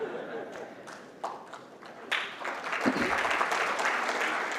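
An audience at a conference applauds, with scattered claps at first that build into full, steady applause across the room.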